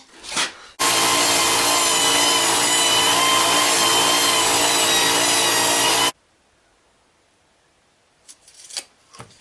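A saw rips a sheet of 5mm plywood to rough size in one loud, continuous burst of about five seconds, then cuts off abruptly to near silence with faint handling noises afterward.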